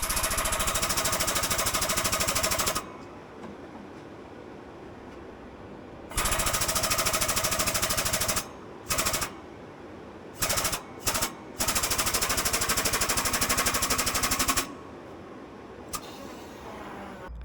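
A part is pressed into a crane pulley during dump trailer maintenance, making loud rapid rattling bursts that start and stop several times, with short gaps and a few brief stutters between runs.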